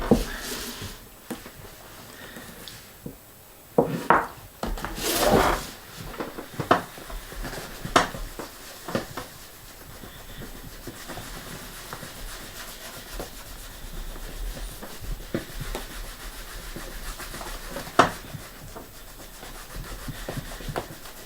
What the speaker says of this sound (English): I shall give it 2 coats, but between each coat a little buffing